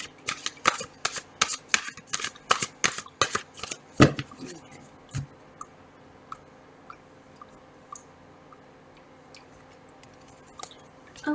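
Quick run of crisp card flicks and riffles, ending in a single louder slap, then near quiet with a few faint clicks.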